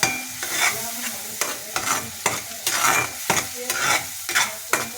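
Masala frying in a pan while coriander and cumin powder are stirred in for a paneer curry: a spoon scrapes and stirs in repeated strokes, about one every half second, over a steady sizzle, close and fairly loud.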